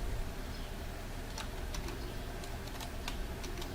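Someone types on a computer keyboard, soft irregular key clicks and taps scattered over a few seconds against a constant low background hum.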